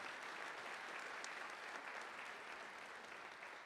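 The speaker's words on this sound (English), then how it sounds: "A big round of applause for our faculty and staff." An audience at a nursing school pinning ceremony applauds faculty and staff with sustained, even clapping that stays at a steady moderate level throughout.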